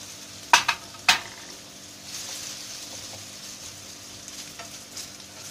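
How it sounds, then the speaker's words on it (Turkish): Potatoes are dropped into hot oil with a few sharp splashes, then settle into a steady, quiet sizzle and crackle of frying, heard close with no talking. "Evet, yağımız ısınmış. Patateslerimizi koyuyoruz."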